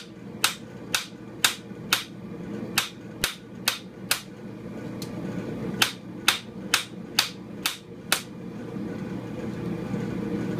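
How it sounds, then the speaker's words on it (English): Sharp metallic strikes of a 2 3/4 pound hammer forging hot metal ring out in a steady rhythm, about fifteen blows with brief pauses, over a low background hum. "This is a 2 3/4 pound hammer. That's not a big hammer."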